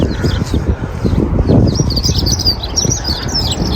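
Small grey birds chirp outdoors in the UK, with busy overlapping tweets running steadily throughout under a constant low background rumble.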